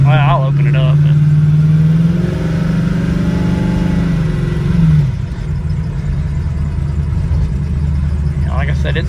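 A 1968 Camaro with a 400 small block, Y-pipe headers and opened exhaust rumbles loudly at close range, its revs rising and falling in a steady throaty drone that settles into a lower idle near the end.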